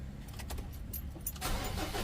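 A Ford Ranger T6 diesel engine, with its EGR system removed, cranks and catches, settling into a low idle after a brief quiet stretch with faint clicks, heard close and fairly soft.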